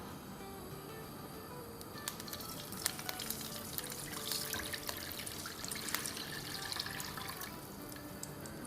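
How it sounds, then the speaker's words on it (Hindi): Three cups of water are poured into a cooking pot of spiced potatoes for dum aloo biryani, a steady close splashing trickle with scattered small clinks. "अब इसको थोड़ा सा हिला लेते हैं और इसमें डालेंगे 3 कप पानी"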